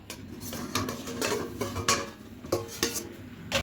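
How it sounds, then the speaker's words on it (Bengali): A metal lid is lifted off a pan holding an eggless semolina malai cake, with several close clinks, taps and scrapes of cookware spaced irregularly, no talking. "ঢাকাটা খুলে নেব"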